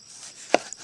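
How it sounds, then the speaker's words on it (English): A sharp knife chops fresh, juicy, just-picked tomatoes into bite-sized pieces on a board, one crisp close thunk followed by a faint tap. "So we'll cut these into bite-sized pieces."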